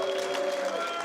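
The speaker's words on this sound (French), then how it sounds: "J'ai nommé Johan sous vos applaudissements." Audience applause in a hall at an event where prisoners and ENA students meet, a broad wash of clapping with a steady tone running underneath for about a second.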